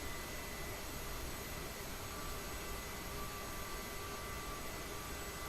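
Jet airliner engines taxiing at Haneda Airport in Microsoft Flight Simulator, a steady, faint, continuous whine and roar with no talk over it.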